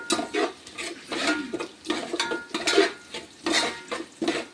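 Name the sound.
roasting cumin seeds in a pan on low flame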